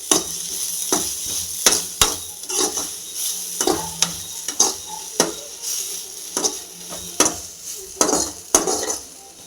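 Chili powder stirred into okra frying in a pan, a spoon scraping and knocking the pan in a steady rhythm of sharp clinks over a continuous close sizzle.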